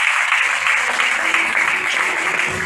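A church congregation at a Sunday service claps together, a dense, loud burst of applause filling the room with a few voices mixed in.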